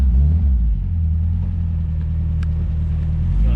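A bright yellow 1980 MGB idles and pulls away, a low steady engine rumble close by with slight rises in revs and faint background noise.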